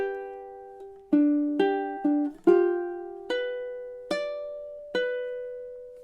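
Ukulele plays measures 23 and 24 of Margaritaville, a series of about eight plucked notes and chords in steady rhythm, each ringing and decaying, close and clear with no talk.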